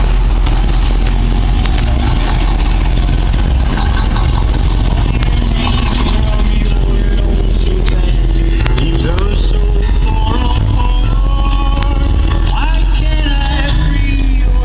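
A 1964 Chevy Impala SS with a newly installed differential is on the road, its engine a loud, steady, close rumble with constant road and wind noise.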